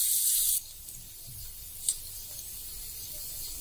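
Mixed vegetables roast in a pan for rava upma, giving a soft, steady sizzle and hiss. A louder spray of hiss opens the sound, then it eases into a quieter, even crackle with one brief pop.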